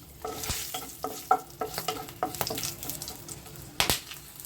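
Bay leaves, cinnamon pieces, cardamom, cloves and peppercorns hit hot oil for tempering. The result is a soft, crackling sizzle with irregular pops and stirring clicks, close up, with no talking.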